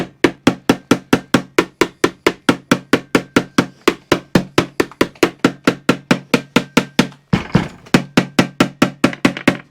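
A Mountfield strimmer's fuel tank is tapped to dislodge debris, making a steady run of sharp, hollow knocks at about three per second, loud and close, with one brief rougher burst partway through.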